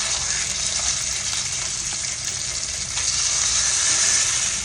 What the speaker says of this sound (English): I want a really nice sear, and each side I'm gonna cook about 3 minutes